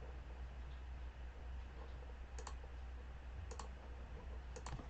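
Computer mouse clicks while navigating folders in a notebook interface, three quick double clicks spaced about a second apart over a steady background hum.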